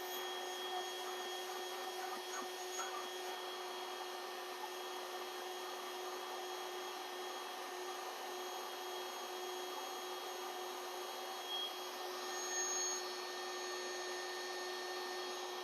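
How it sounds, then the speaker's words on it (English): A battery-operated bee vacuum runs with a steady, high-pitched motorized whine and a faint electric buzz, holding even and unchanging throughout, close by with no voices. "Perfect vacuum for bees, right there"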